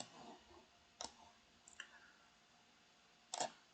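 A computer mouse double-clicks, heard as a few quiet, crisp clicks spread over several seconds with a paired click near the end, against faint room background.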